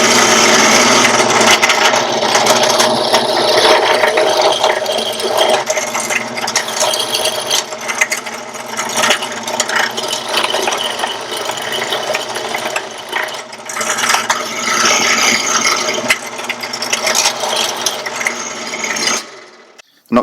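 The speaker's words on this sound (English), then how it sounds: "we're ready to countersink the holes" A Harbor Freight bench drill press countersinks holes in a metal plate, giving a loud, continuous grinding and scraping whir that runs nearly twenty seconds before cutting off abruptly.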